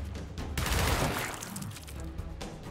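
Gunfire in the Gears Tactics video game, a loud burst of shots swelling early then trailing into rumble, with a few sharper cracks near the end.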